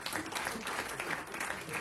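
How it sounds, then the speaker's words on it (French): Audience applause at a competition final, a brief burst of moderately faint, steady clapping from a modest crowd. "on peut l'applaudir"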